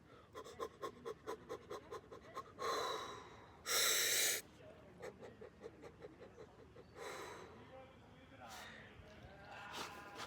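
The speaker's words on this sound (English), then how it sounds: "inhale deep and rapid breathe out slow" A person demonstrates a breathing exercise: a burst of rapid, deep sniffing inhales, then long, loud, airy exhales up close, repeated, with brief talking between the breaths.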